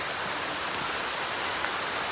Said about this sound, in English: It's raining here a little bit.